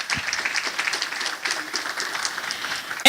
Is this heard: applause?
yes